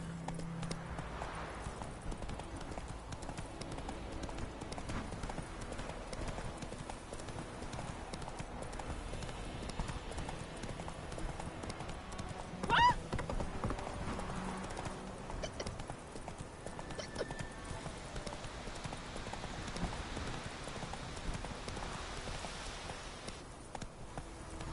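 A horse named Roach clip-clops in Witcher 3, its hooves beating out a steady, quiet rhythm against soft rain-like ambience throughout, with one sharper knock midway.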